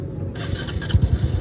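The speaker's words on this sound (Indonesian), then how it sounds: "Kita hidupin motornya." A Honda Supra X 125 FI motorcycle engine starts and runs with a low, steady, close idle rumble throughout the short stretch, no speech.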